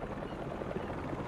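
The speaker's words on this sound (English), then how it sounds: "a helicopter's blades." Helicopter rotor blades in the video game Marvel's Spider-Man 2, a steady low pulsing thump that runs loud and continuous throughout the short moment with no talk over it.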